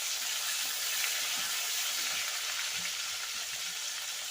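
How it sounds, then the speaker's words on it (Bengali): Chopped tomatoes frying in oil in a pan, a steady bright hiss of sizzling heard up close and alone, with faint soft crackles underneath. "তো ওই একই তেলের মধ্যে আমি দিয়ে দিচ্ছি টমেটো,"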